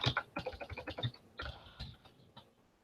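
Quick bursts of clicking keystrokes on a computer keyboard as a short message is typed, close and fairly quiet, with short pauses between runs of keys and no talk.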